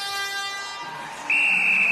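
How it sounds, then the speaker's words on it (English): An electronic buzzer sounds loud and steady at a netball match between South Africa and Uganda, marking the end of the third quarter over arena crowd noise. "the buzzer's going to go here"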